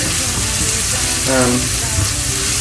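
Onions sizzling hard in a pan on high heat, a dense continuous hiss that stays loud and close for the whole stretch, with a brief faint tonal sound partway through.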